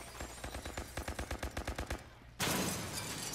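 Rapid automatic gunfire from the video game America's Army, a quick rhythmic burst of about fifteen close shots, a short pause, then a loud sustained blast of noise.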